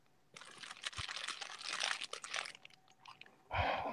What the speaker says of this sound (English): There he is, crunching again.